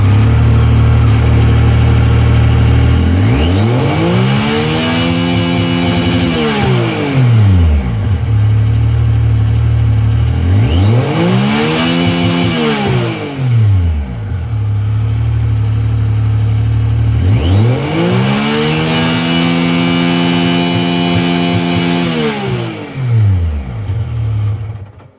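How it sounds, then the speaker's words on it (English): A Yamaha YXZ1000R side-by-side engine revs hard three times, each time climbing to the rev limiter and dropping back to a loud, steady idle between pulls, close and with no talk. "it's coming on right at the rev limiter"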